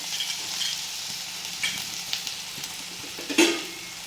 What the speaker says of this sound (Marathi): ते तेलात एक मिनिटभर छान परतून घेऊया